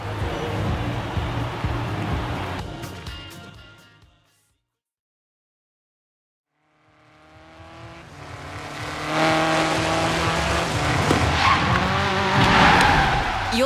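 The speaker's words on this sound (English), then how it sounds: "Driving the buggy for the launch event against that Jeep" Forza Horizon 3 game audio: an off-road buggy races a Jeep at the launch event, engines roaring with tire skids, cutting to silence for a couple of seconds, then engine whine and squealing tires build back up loudly.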